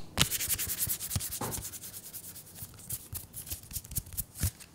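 Unsleeved Ashes: Reborn playing cards are handled and shuffled up close, giving a quiet run of papery rubs, flicks and sharp snaps in an irregular rhythm.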